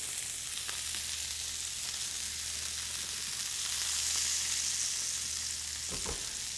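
Whole butter sizzles steadily in a hot pan, a continuous bright hiss holding at an even level with a slight swell midway and a couple of faint clinks, no voices.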